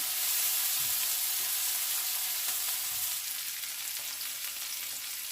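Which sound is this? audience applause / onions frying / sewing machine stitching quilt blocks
onions frying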